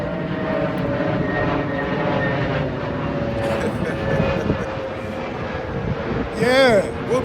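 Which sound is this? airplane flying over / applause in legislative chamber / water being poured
airplane flying over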